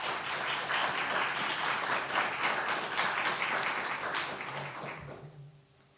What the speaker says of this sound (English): let's give a round of applause to our panelists first